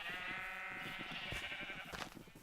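A sheep in Minecraft lets out a long, wavering bleat, close and clear over a soft game background.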